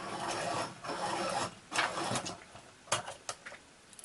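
A cool grey colored pencil is sharpened in several short, quiet rasping bursts, close by, with brief pauses between the scraping strokes.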